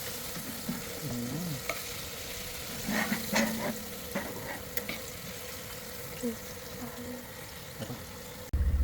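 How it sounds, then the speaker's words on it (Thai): Boneless chicken pieces frying KFC style in oil in a wok-type pan, a steady close sizzle with occasional stirring clatter and bubbling bursts. "ใช้กระทะก็ทอดสวยได้นะครับ"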